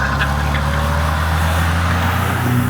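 Turbocharged Kia Stinger GTS engine heard from inside the cabin as a steady, loud low drone with broad road and wind noise, continuous throughout.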